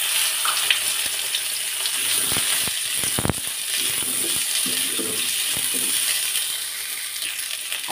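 Potatoes frying in hot oil in a wok, a continuous loud sizzle with a burst of crackling and scattered clicks of the pieces landing, no talking.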